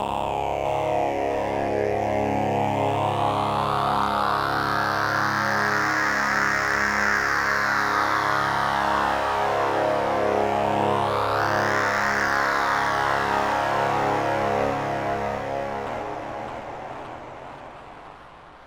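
An ominous synth drone from a Korg NTS-1 and PO-35 Speak holds steady and loud with heavy effects, its pitch sweeping up and down twice before it fades out near the end, with no talk.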